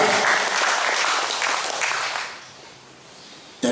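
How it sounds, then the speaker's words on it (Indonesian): An audience at a regional government and party working meeting breaks into applause, loud at first, then thinning and fading into scattered claps before a sudden sound at the very end. "Tepuk tangan dulu Kabupaten Jayapura."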